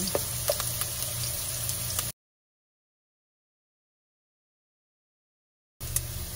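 Garlic and ginger fry in hot oil in a pan, a steady close sizzle with small crackles and pops that cuts out to silence midway, then returns briefly.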